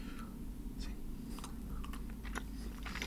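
Close, soft chewing of watermelon-flavoured Sour Patch gummy sweets, with irregular wet squelches and small bites over a low background hum and no talking.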